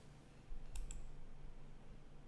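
A computer mouse gives a quick faint double click, two tiny close ticks over low steady room hum.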